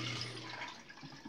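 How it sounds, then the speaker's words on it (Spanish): A washing machine drains its dirty wash water with a faint, steady watery rush and gurgle, heard alone and at low level. "Ahorita ya empezó a tirar el agua sucia."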